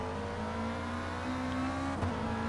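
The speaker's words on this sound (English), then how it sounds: "As you can hear, they're now fixing the engine" Race car engine in a GT3 racing game at the Nürburgring, a steady loud drone with a rising tone, holding near-constant level over a few seconds as the car leaves the pits after an engine rebuild.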